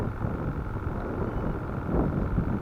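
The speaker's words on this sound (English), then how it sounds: "The wind picked up just that quick." A steady gust of wind rushing over an open lake on a crappie fishing trip, a broad low roar buffeting the boat and microphone throughout.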